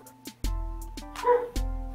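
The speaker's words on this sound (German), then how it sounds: "man hört jetzt mal wieder meine Hunde." Dogs barking indoors at a gamer's home, a few sharp woofs and yips spread over two seconds, fairly close and loud against a low background hum.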